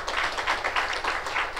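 Applause from a seated audience at a concert felicitation, a short steady burst of many hands clapping together, fairly close and even, with no voices over it.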